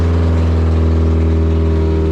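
A Mazda NB Miata engine idles steadily and loudly up close at 2,500 rpm, a deep continuous rumble with a constant low hum and no variation.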